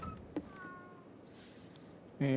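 A cat in the video game Ghostwire Tokyo gives a short meow against quiet game ambience, then a voice speaks near the end.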